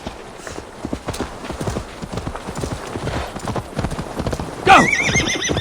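Horse hooves clip-clopping at a gallop in the Viking-era video game Assassin's Creed Valhalla, a steady rapid rhythm throughout, ending in a loud, close neigh near the finish.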